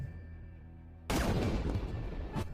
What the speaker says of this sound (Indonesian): Dengan tembakan jitu, Hussein berhasil menembak kapten pasukan Irak.